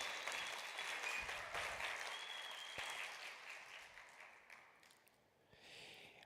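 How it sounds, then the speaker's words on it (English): An audience at a tech program event gives a round of applause, steady clapping that is fairly faint and distant, slowly tapering toward the end. "Please give them a round of applause."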